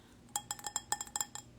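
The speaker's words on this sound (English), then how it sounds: "It's the sound of a glass of wine." A wine glass clinked repeatedly, about eight bright, ringing taps in quick irregular succession, close and clear with no talking.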